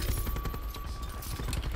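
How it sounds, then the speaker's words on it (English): Rapid automatic gunfire in Black Ops 4, a dense, loud, steady stream of shots with heavy low thumps, running continuously through the short stretch with no voices. "I'm about to shoot this kid's body, bro."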